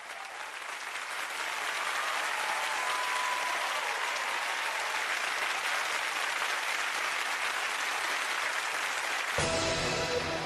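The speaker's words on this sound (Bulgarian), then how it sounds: "Аплодисменти за" Audience applause for a singer introduced on stage, a dense sustained wash of clapping that swells early and stays loud and steady for the whole stretch, with the crowd filling the room.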